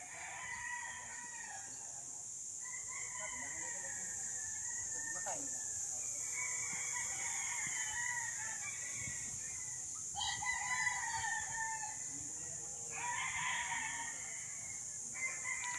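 Gamecock breeder roosters and chickens crow one after another at a fighting-cock farm lot, several long calls at middle distance over a constant high insect drone, with faint talk underneath.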